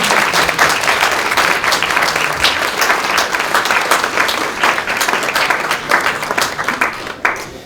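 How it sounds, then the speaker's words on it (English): An audience at an awards event applauds, with dense, loud, continuous clapping that lasts throughout and fades slightly at the end. "give all of yourselves a round of applause, because you're amazing."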